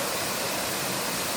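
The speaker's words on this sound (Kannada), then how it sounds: "ಇಂದು ಹೇಗೆ ಬೋರ್ಗರಿಯುತ್ತಿದೆ ನಮ್ಮ ಕಬ್ಬರ್ಗಿ ಜಲಪಾತ" The Kabbargi waterfall, swollen after a night of heavy rain, roars as a steady, broad wash of rushing water, unbroken and fairly close, with no voices over it.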